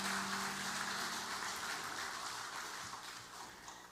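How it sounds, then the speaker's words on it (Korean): A church congregation gives dense, steady applause after the choir's praise during a Sunday worship service, a broad clatter of many hands that slowly fades toward the end. "박수로 격려해 주시죠."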